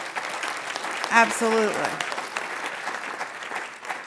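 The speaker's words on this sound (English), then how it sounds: "give them a round of applause" An audience applauds at a gathering of Oxford House members, a brief burst of clapping that mixes with a speaker's voice and then fades under continued talk.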